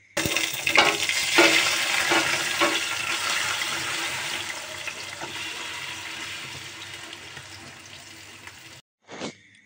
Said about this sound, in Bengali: এবার আস্তে আস্তে আমি ডাল আর পুঁই শাকটা দিয়ে দেব।